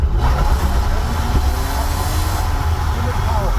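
A BMW E46 engine drones loud and steady during a clutch-kick drift, with a heavy low rumble and wind roar heard from inside the car.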